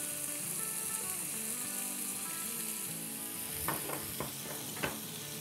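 Chicken tikka marinade with yogurt, turmeric and spices cooking in a pan, steady sizzling and frying hiss with a few sharp clanks of stirring toward the end.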